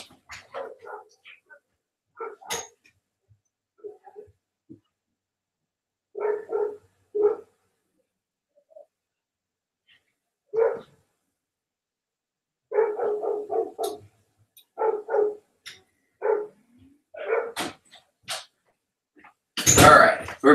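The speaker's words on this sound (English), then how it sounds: "My little dog's out there." A small pet dog barks outdoors in scattered short bursts with pauses between, fairly distant, the last bursts louder and harsher.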